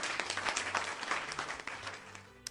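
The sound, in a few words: applause sound effect redeemed on a live stream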